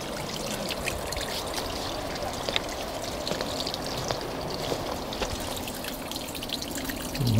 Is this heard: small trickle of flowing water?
yes